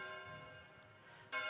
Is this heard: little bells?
yes